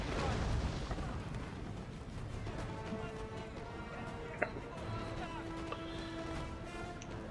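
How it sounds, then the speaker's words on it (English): Russian unicorn artillery fires in a Total War: Napoleon battle, with booms and one sharp report standing out from a dense, continuous roar of combat, while a voice talks over it. "Now finally, the unicorns have started firing."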